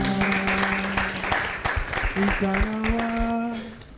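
Studio audience applause on a French-language TV variety show, a dense patter of clapping blended with sustained musical tones, steady and fairly loud for about four seconds.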